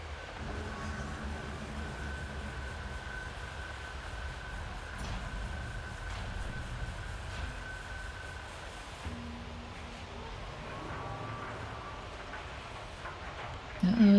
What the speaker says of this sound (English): Alright, we got a little like tram system.